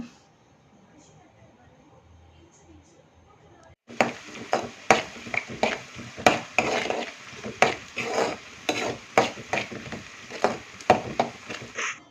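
Onion pieces fry in oil in a pan seasoned with turmeric and salt. After about four quiet seconds, a close, steady sizzle starts with frequent crackles and stirring scrapes.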